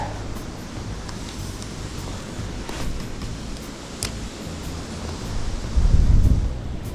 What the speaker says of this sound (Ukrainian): Якби ще не той вітер, взагалі було б класно.